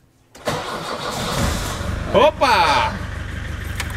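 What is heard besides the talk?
aerial work platform engine starting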